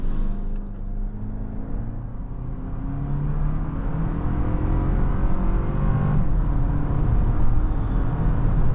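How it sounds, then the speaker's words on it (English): A 2024 Toyota Land Cruiser First Edition hybrid 4x4 accelerates onto a highway on a freezing morning. Steady engine and road noise builds gradually and rises in pitch as speed climbs, loud and close from inside the cabin. "let's go see how the Land Cruiser accelerates out here onto the highway."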